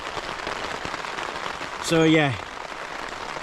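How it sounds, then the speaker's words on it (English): Rain patters steadily on a tent at a wild camp at night, a soft even hiss that continues throughout while someone speaks briefly over it. "just lay back and relax and enjoy the rain"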